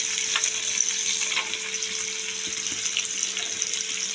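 Sliced onion frying in a little oil with black cumin and dried red chilli, a continuous close sizzle and crackle with occasional stirring scrapes, a faint steady hum underneath and no talk.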